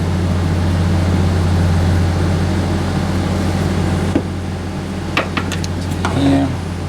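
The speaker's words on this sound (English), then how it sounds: "I'm sorry if the air conditioner is really loud in the background" An air conditioner runs loudly during 43-degree heat while an antique Olson M-102 microphone is rebuilt, a steady low hum filling the room throughout, with a few faint clicks and small handling noises near the end.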